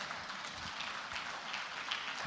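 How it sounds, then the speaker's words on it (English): An audience at a forum hosted by the government of Nigeria applauds the Vice President with steady, moderately distant clapping that keeps going throughout. "Please keep clapping for His Excellency the Vice President."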